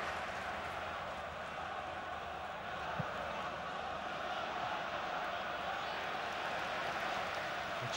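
A football stadium crowd roars in a sustained, dense wash of noise after a Ronaldo shot in a Manchester United v Tottenham Hotspur match, with no commentary over it.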